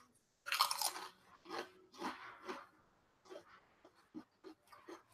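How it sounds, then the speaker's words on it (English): A crunchy fried snack chewed close to the mic, a series of loud crisp crunches in an uneven rhythm, growing softer and quicker toward the end, with no talk. "Can you hear the crunch?"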